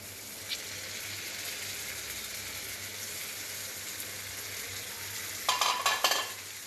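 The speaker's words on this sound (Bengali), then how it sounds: "ডিম শুকনো ভুনা করতে আসি, শুকনো পেঁয়াজ দিয়ে ভাজি করতে আসি" Egg bhuna with dried onions frying in a pan: a steady close sizzle and hiss runs throughout, with a short burst of scraping stirs near the end and a low hum underneath.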